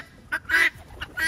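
Guinea fowl calling near the top of a pigeon loft, a few loud, harsh, nasal squawks in short bursts separated by brief pauses.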